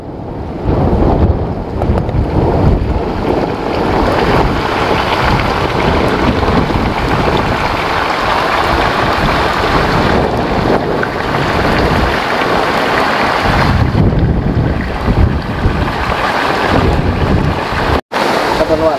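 Coconut water heating in a pot for cooking rice, reaching a boil with a dense, steady bubbling hiss close by. It runs continuously throughout, apart from one brief dropout near the end.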